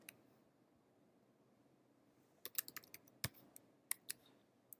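Quick light clicks of keys typing on a computer keyboard, a short burst of irregular taps after a quiet pause, close and fairly soft.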